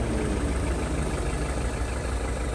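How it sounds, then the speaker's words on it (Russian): A 2013 Mitsubishi Lancer's engine idles smoothly. The low, even hum is loud and close and holds a constant rhythm with no other sounds. "Также можно услышать, как работает мотор."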